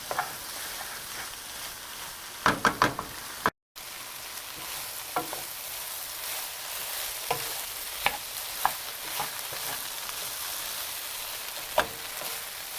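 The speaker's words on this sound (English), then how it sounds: "you want to make sure you keep stirring till it's all out and it's nice and sauteed" Okra sizzling as it is sautéed in a pan, its slimy film cooking off, with a steady frying hiss and regular, sharp stirring clicks and scrapes throughout, close and without talk.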